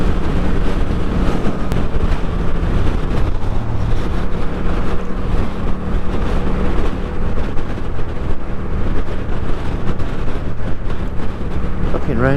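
Heavy, constant wind roar buffets the microphone while riding a Yamaha MT07 motorcycle on a UK motorway, with engine drone buried beneath the loud rushing noise throughout.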